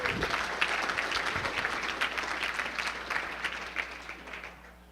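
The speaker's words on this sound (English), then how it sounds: "give your neighbor a little round of applause for that" Audience at a 2016 conference breaking into a steady round of applause, many hands clapping densely at a moderate distance for about five seconds, then starting to thin toward the end.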